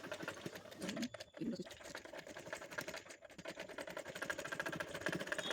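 A domestic sewing machine top-stitches a small child's frock, giving a soft, steady stitching patter that swells toward the end, with a voice speaking briefly near the start.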